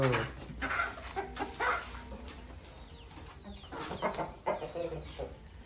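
Chickens and a rooster cluck on a farm, with repeated short calls rising over steady background noise while a person talks nearby.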